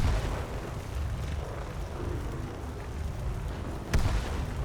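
A magic firebolt explosion in the video game Skyrim rumbles as a deep, continuous booming roar, with one sharper blast near the end.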